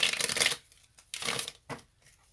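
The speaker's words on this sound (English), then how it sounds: "So let me shuffle these." A deck of tarot cards is shuffled by hand in three quick bursts of crisp riffling and flapping, separated by short pauses, close and fairly clear with no talking.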